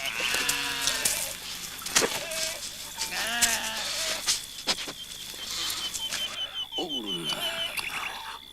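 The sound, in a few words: sheep bleating around a shepherd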